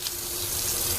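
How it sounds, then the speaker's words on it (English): Tap water runs steadily into a sink for rinsing orchid roots, a close, continuous broadband splashing hiss with no pauses and no voices. "I'll then turn on the water"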